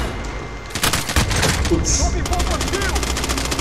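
Rapid bursts of automatic gunfire from a video game shooter, loud and clustered in quick volleys, with players talking excitedly over the shots.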